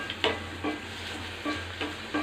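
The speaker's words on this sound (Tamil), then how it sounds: "இப்போ வெங்காயம் பூண்டு நறுக்கினதை போடுறோம்." Chopped onion and garlic fry in a pan for mint chutney, a continuous close sizzle broken by regular stirring scrapes.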